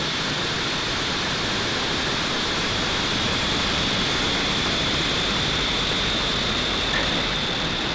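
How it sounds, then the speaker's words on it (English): Roar of a Falcon 9 rocket's engines climbing after liftoff on the Galaxy 37 satellite launch: a steady, dense, broadband rumble that holds loud and unbroken throughout, with no voices over it. "Ignition and liftoff for Falcon 9"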